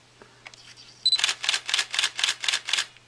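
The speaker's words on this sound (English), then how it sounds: "let's demonstrate the fast shutter speed on this camera. It's rated at about 4 frames per second." A Nikon D5000 camera fires a fast burst of about eight evenly spaced shutter clicks after a few faint handling taps and a short beep, close and crisp with no talking.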